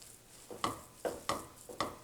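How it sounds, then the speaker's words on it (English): Ground beef for beef enchiladas being broken up and browned in a skillet: four close, evenly spaced scraping strokes of a utensil against the pan over a faint sizzle, with no talk. "we have the meat in the skillet and we're going to break it all up and brown it"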